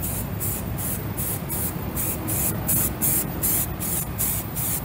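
Primer coat sprayed onto a motorcycle part from a spray can held far back, a series of short bright hissing bursts in quick rhythmic passes, close and fairly loud, without talk.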